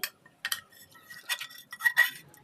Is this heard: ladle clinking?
yes